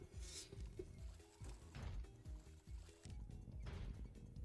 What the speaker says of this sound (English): there's water sounds in the water